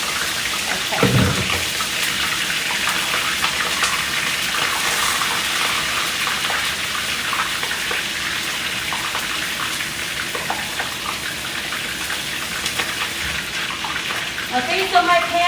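Fish sizzles and hisses in a very hot pan, a loud, steady spitting crackle that fills the space, with a voice talking briefly over it.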